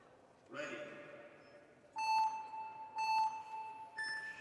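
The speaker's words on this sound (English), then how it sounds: "we wait for those beeps to get us underway here on our second race for the men" Start beeps of a men's speed climbing final at Bologna 2024 ring out as three bright electronic tones about one second apart. A brief voice and some crowd noise come just before them.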